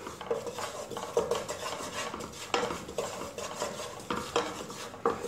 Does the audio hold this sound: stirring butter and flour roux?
yes